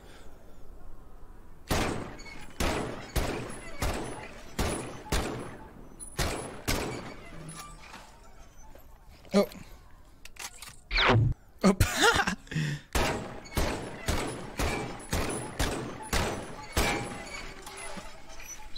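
Gunfire in the VR shooter Medal of Honor VR: a long run of sharp, loud, evenly spaced shots, with a brief burst of heavier crashing near the middle before the steady firing resumes.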